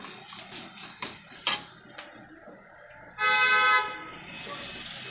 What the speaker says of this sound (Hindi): ये घर रोड पे है ना तो थोड़ा सा गाड़ी उड़ी का आवाज आता है बीच बीच में